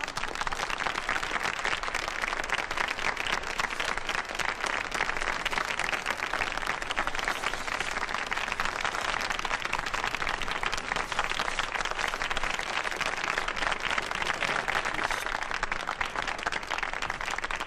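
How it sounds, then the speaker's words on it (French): At the Bruce Campbell Ice Rink, the audience applauds skating couple Pierre Taquin and Olga Menderova with steady, sustained clapping that holds at an even level throughout. "Je vous demande d'applaudir très fort Monsieur Pierre Taquin et Madame Olga Menderova."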